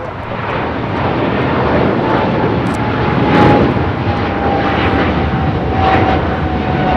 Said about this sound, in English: This is China Airlines Cargo 5137 taking off to Taipei on a 777 freighter.